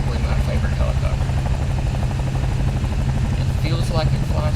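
A CowanSim 222B helicopter in Microsoft Flight Simulator drones steadily in flight, its engine whine and rotor thrum loud and continuous throughout.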